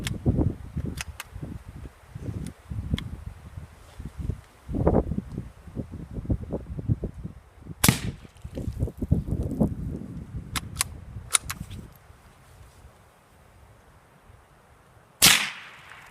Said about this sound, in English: that's the sonic crack because the Federal bulk pack is coming out supersonic